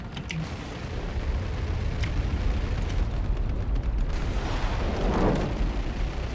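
Spaceship chain gun fire aboard an Avenger ship in Star Citizen Arena Commander, a continuous loud rumbling barrage of booms and bursts with no talking.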